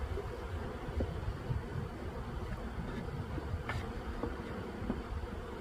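Purebred Russian honeybees from a package install buzz softly and continuously at close range, a low hum dotted with faint ticks and light knocks.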